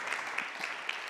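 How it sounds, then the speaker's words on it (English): Applause from an audience at a Geneva peace talks event, a steady wash of hand clapping sustained throughout, moderately faint with no voices. "We have lots of claps."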